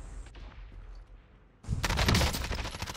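Gunfire in Call of Duty Modern Warfare on the Verdansk map: a quieter stretch of low rumble, then a loud burst of rapid automatic shots over the last second and a half.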